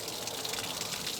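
Water draining and gushing steadily out of an RV water heater during maintenance flushing, a continuous close, even hiss of flowing liquid with no talk.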